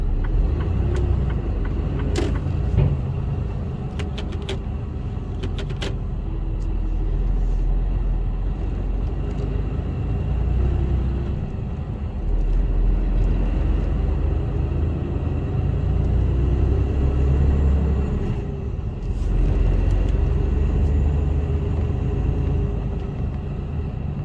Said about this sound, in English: All I've got to do is dump this trailer now.